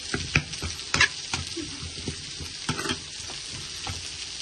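Onion and spice masala frying and being stirred for a fish bhuna, with a steady soft sizzle and repeated sharp spatula scrapes and taps against the pan, close and fairly quiet, no talking.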